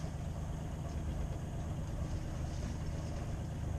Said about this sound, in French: On fait un petit peu chauffer le moteur.